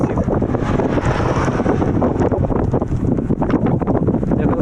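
Strong wind by the Yalpug river buffeting the microphone in loud, continuous gusty roars with no pauses.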